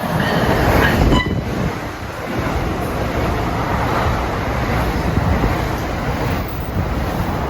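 NJ Transit 3937, a New York to Trenton express from the 3900 series, speeding past nonstop, makes a steady, loud rushing roar of wheels and wind throughout, with no voices.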